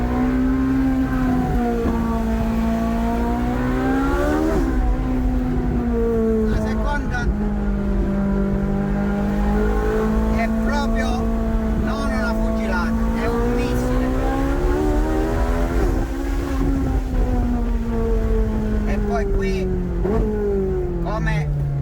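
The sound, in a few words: Ferrari 458 Italia sports car driving hard through curves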